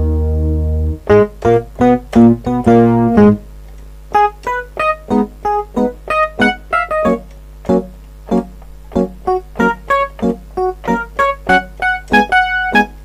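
Solo piano playing the introduction of a song: a lively melody with chords, opening on a sustained low note, then rhythmic repeated phrases and clear attacks throughout.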